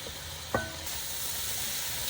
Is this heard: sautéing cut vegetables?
yes